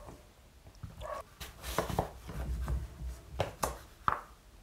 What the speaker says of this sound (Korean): 아직 칼질이 많이 서툴죠